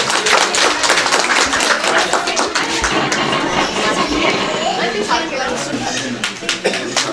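Dense applause from an audience at a village community hall's 11th foundation day celebration, steady and sustained throughout, with some voices mixed in.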